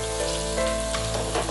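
Finely chopped garlic, about eight to ten large cloves, frying in a pan coated with caramelized sugar, giving a continuous close sizzle with bubbling crackle and faint stirring, no voices.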